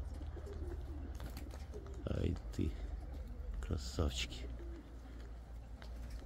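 White pigeons coo in a few soft, throaty bursts close by, with someone speaking briefly between them over a low background hum.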